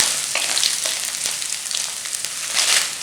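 Black pepper, chili and ginger fry in a hot pan for an omavalli thokku, making a loud, continuous close sizzle with stirring scrapes that swell briefly near the end.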